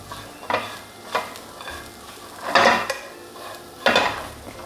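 A spoon stirs carrots in a cooking pot for a one-pot lentil bolognese, four or five scraping clatters against the metal pot spaced about a second apart over a low sizzle.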